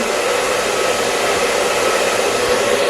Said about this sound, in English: I'm going ahead using this round brush with the thermal iron